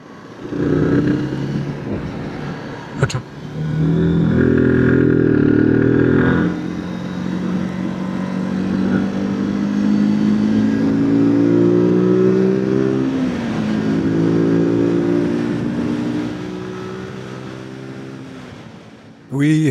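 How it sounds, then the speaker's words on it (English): Steady engine hum of a motorbike cruising along a wooded road in Portugal, loud and close throughout, with the pitch rising and falling through gear changes and a brief click near the start. "It's quiet, just the hum of the bike and that faint pine smell."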